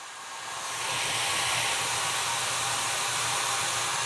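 A tiny travel hair dryer starts up and runs as a steady, loud, close airy whoosh with a faint low motor hum beneath, holding constant after the first half second with no talk.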